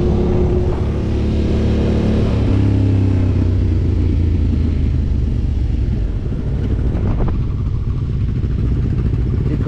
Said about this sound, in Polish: W końcu odkręcił na maksa na luzie.